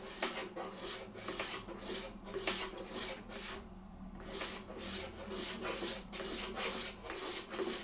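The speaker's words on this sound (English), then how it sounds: "Do you want to see what they sound like on my strop a little bit?" A Nowill Sheffield Krosskeys straight razor strokes back and forth along a strop in a quick, even rhythm of soft, wispy rasps, close and quiet, with one brief pause midway.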